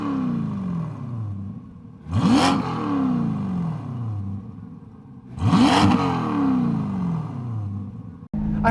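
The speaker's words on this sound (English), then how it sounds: "So you can obviously hear the exhaust a lot better from outside" A 2020 Corvette C8 with a Fabspeed Valvetronic exhaust revs hard twice, each sharp roar rising then falling away, with a low idling rumble between the blips.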